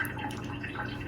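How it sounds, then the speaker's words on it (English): Water is poured into a bowl of vegan salad dressing, a brief close trickle and drip lasting about a second without any talking. "And lastly, I'm adding in some water."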